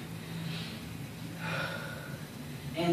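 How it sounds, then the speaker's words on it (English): Calm, deep belly breaths held during a forearm handstand, three soft inhale-exhale swells spaced about a second apart, close and quiet with no talk. "Breathing from my gut, raising my diaphragm, and just breathing."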